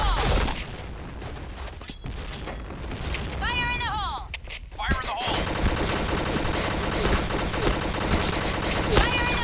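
Rapid gunfire from the Pink Dragon special gun in the Point Blank online shooter, dense fusillade bursts with blasts throughout, loud and continuous with game effects layered over it.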